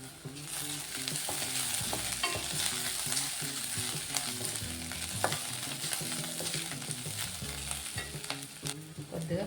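Onion and ginger fry in a pan with a continuous close sizzle and repeated stirring scrapes throughout.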